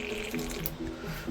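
An airbrush with its nozzle plugged pushes air back into the paint cup while airbrushing resin miniatures, making a short, close, watery gurgle of bubbling paint.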